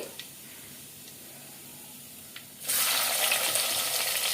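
Onions dropped into hot oil with cumin seeds, a sudden loud burst of sizzling hiss after a quiet stretch with a few faint clicks, then a steady close crackle.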